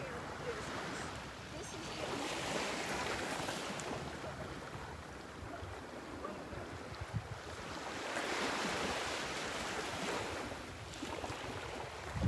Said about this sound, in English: a nice little breeze blowing